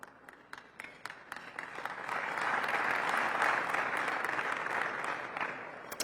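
An audience at a Washington DC economic partnership annual meeting applauds: sparse individual claps at first, then swelling into fuller, steady applause that holds before thinning slightly at the end.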